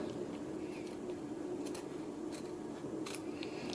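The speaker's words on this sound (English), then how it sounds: "we want to go ahead and trim this really nice and tight, close to the stitching" Scissors trim applique fabric close to the stitching, making several faint, quick snips scattered over a quiet, steady background hum.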